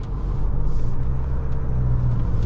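Cabin drone of a 2022 Isuzu D-Max X-Series pickup with the 1.9 engine cruising on the road, a steady low engine and tyre rumble, loud and continuous with no talking.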